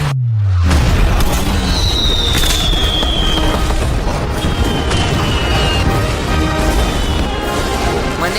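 A house being blown up in a staged demolition goes off as one loud, sustained roar with crackling bursts and a few whistling streaks overhead, like fireworks, filling the whole stretch with dense noise.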